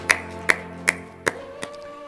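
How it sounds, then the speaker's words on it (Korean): A church congregation at a Sunday worship service clapping in praise, a few sharp evenly spaced claps over about two seconds, fading toward the end. "우리 살아계신 주님께 감사와 찬송과 영광의 박수 올리도록 하겠습니다"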